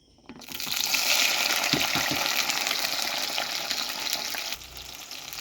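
Shallots for fish pickle hit hot oil with a loud, steady, crackling sizzle that starts abruptly and continues throughout, easing slightly in the last second, with no voices.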